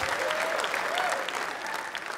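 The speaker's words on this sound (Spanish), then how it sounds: "Un aplauso, por favor, para el chaparro Alex Salazar." A comedy club audience applauds comedian Alex "El Chaparro" Salazar, loud sustained clapping from a packed room with a few cheers or whistles rising over it, tapering slightly at the end.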